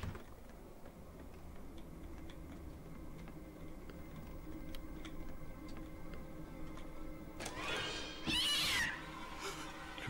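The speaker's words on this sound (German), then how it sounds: "Scheiß Katze." A cat meows in a house setting in the horror game Pineview Drive, a single loud, close, drawn-out wail rising near the end after quiet ticking and faint room ambience.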